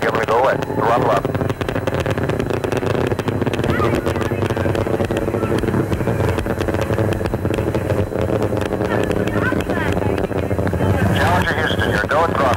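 Space Shuttle Challenger on its STS-7 launch at throttle up, a loud, continuous roaring rumble with wind buffeting, overlaid by mission control radio voices talking.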